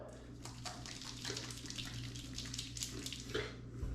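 Water running from a tap into a sink while lathering for a shave, a steady close splashing flow with small fluctuations, quiet overall and with no talking.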